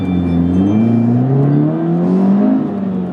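A 2017 Subaru BRZ engine, 205 horsepower, revs loudly and steadily as the car accelerates, its pitch climbing and dipping with gear changes across a continuous close-up drone inside the cabin.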